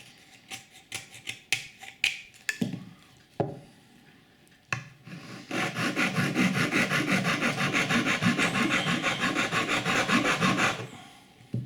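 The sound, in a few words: cutting wood while making a Native American flute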